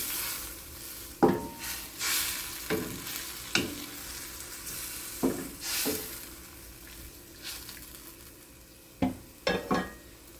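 Squid sizzles in a hot pan for adobong pusit while a utensil stirs it, scraping and clinking in scattered bursts over a steady soft frying hiss.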